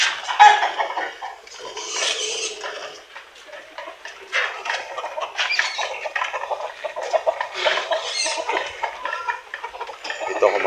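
Native chickens feeding, with close, busy clucking and pecking clicks scattered across the whole stretch, some louder bursts standing out and a little talk faintly underneath.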